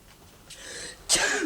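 A single close sneeze bursts out after a short inhaled build-up, sharp and fairly loud, with no talking.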